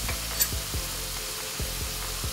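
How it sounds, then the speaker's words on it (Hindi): Onion, garlic, chili and fenugreek fry in a pan for Punjabi kadhi, giving a loud, close, continuous sizzle with periodic scraping stirs every half second or so; no talking. "आप देख सकते हैं प्याज, लहसुन, मिर्च, मेथी सभी बहुत अच्छे से भून गए हैं"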